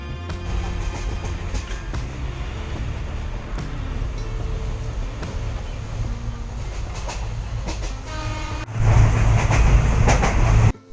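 A Kottayam passenger train runs on rails through Kerala with a steady rumble and rhythmic wheel clicks, heard from inside the carriage. The noise grows louder and rougher for the last few seconds.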